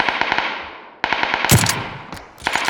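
Rapid bursts of automatic gunfire in a video game, loud and close, with several short volleys separated by brief pauses and a sharp impact near the middle.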